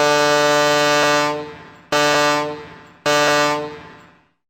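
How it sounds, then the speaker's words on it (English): Sailing vessel's foghorn giving three loud blasts: one prolonged and two shorter, each a buzzy harmonic tone that decays into silence, sounded alone. "Start sounding your foghorn."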